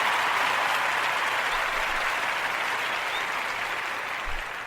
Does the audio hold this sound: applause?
yes